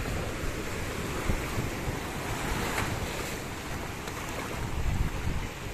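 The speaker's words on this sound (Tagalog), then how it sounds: "Malakas ang alon." Strong ocean surf breaking continuously at a beach resort in Cavite, a steady loud wash of waves mixed with wind buffeting the microphone, no voices.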